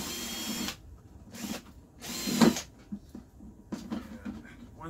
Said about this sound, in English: I'm going to drill the holes for the hoses